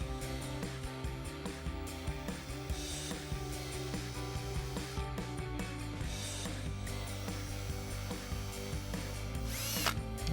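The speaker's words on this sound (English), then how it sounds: "Drill a couple of 1/16 holes." A power drill bores 1/16-inch holes in a Jeep Wrangler side step, a steady whining motor hum held close and continuous, with brief bursts of higher grinding.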